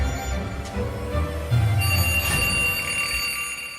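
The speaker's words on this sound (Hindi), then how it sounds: "अलार्म से जेसन की आंख खुली।" An alarm clock rings steadily with a bright metallic jangle, continuous and fairly loud, with no talking.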